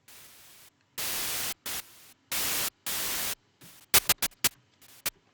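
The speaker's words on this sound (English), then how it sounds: "every note you hit on the MIDI, it's gonna be a white noise, like uniform." White noise synth patch in FL Studio triggered by MIDI notes: bursts of loud, uniform hiss switching on and off, first in several long held blocks, then a run of short rapid staccato stabs, with no other sounds.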